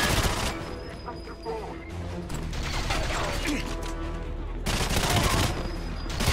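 Rapid bursts of Vector submachine gun fire in the 007 video game on Wii, loud repeated automatic volleys with brief pauses between, dense with game mechanism and impact noise.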